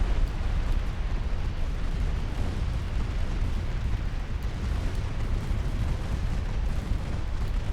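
Naval secondary batteries pounding away at cruisers in a warship game make a dense, continuous rumble of rapid booming shots and explosions, loud and unbroken with no voices.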